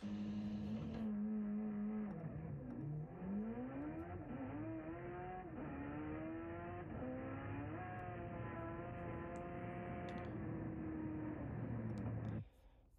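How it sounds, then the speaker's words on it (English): A Mitsubishi Evo 8 makes a quarter-mile drag pass with a slipping clutch. A loud engine holds a steady drone, then rises and falls in repeated revving sweeps before cutting off abruptly near the end. "this is the pass with the clutch blowing loose"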